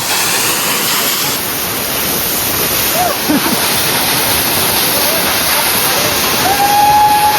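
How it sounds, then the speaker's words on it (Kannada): Baba Waterfalls pouring down with great force, a loud, dense, unbroken roar of falling water close by, with faint voices briefly audible beneath it. "ಭಾಳ ಕೆಟ್ಟ ನೀರು ಫೋರ್ಸ್ ನೋಡ್ರಿ ಅಲ್ಲಿ ಯಾವ ಥರ ಬರತೈತಿ"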